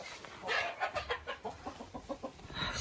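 A hen in a crowded poultry coop clucks in a steady run of short, evenly spaced notes, close and moderately loud, with a few higher squawks at the start.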